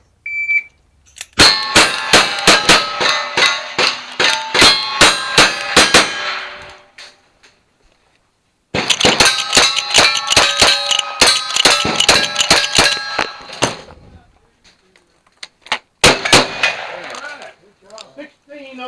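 Rapid gunshots ring off steel targets during a stage at a shooting match, loud dense volleys of sharp clangs in two long strings, then a short final burst.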